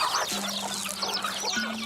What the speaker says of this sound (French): Derrière la maison de Marcel, une 60aine de poules caquettes.